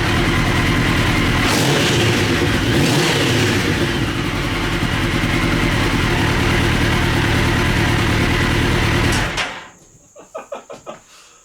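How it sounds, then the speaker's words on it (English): Mini trophy truck engine starting for the first time, running loud and steady for about nine seconds before shutting off, followed by a few short sputters and clicks. "It took us how many months of work to get to this point, but it is now finally running."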